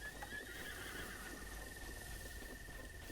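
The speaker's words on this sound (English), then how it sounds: "It is, of course, a wild horse, a very wild horse." A wild horse in Zelda: Breath of the Wild gives a faint neigh over a steady outdoor game ambience with a thin high whine, the call low and soft rather than close and loud.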